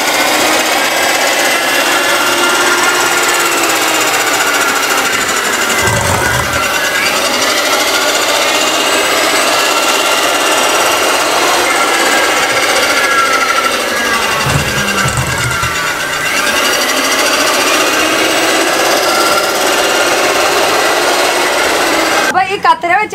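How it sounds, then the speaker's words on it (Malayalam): A fabric cutting machine in a t-shirt factory runs with a steady, loud mechanical buzz and whine, broken by a couple of heavier low thumps, while a voice talks over the constant machine noise. "കട്ടിംഗ് മെഷീൻ ഇങ്ങനെയാണ്."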